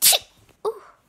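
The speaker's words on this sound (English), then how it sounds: "That was a big, bad sneeze." One loud, sharp sneeze from a young girl with a cold, a quick inhale-burst, followed by a softer second vocal sound, close up.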